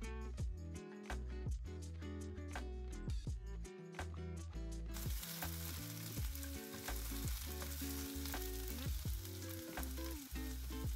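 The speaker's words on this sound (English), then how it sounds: "I am breaking up the onions so that each individual piece of onion can caramelize" Chopped onions sizzle and fry in a pot while being stirred and broken up, a dense steady crackle with repeated scraping utensil strokes close up.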